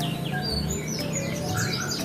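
A pleci, or white-eye bird, sings a run of thin, high, quick chirps and twittering notes over a steady hiss of background noise, with no one talking.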